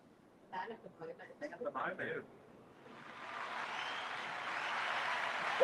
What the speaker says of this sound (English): The crowd clapped in.